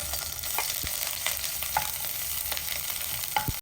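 Ginger sautéing in hot oil, the start of a milkfish soup, gives a steady close sizzle with a few light scrapes and taps from stirring, alone and without speech.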